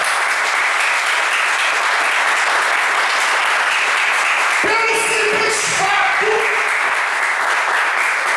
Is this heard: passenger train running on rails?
no